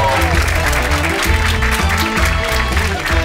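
A comedy club audience applauds a stand-up comedian, with dense continuous clapping and some crowd noise over a strong rhythmic music bed, loud and sustained throughout.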